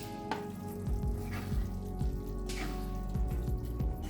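Okra hits a hot pan of masala with amchur powder and sizzles steadily, a close, continuous frying hiss broken by soft stirring clatters and small pops.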